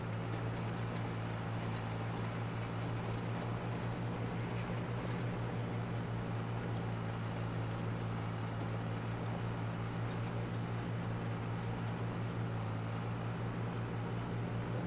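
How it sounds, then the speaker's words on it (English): A tractor engine strains as it pulls a disk uphill through a cornfield in Farming Simulator 25. It makes a steady, unbroken drone with a low hum, heard alone at moderate volume throughout. "we couldn't use the big tractor to do the cornfield, disking it, because it had a very hard time pulling this hill over here"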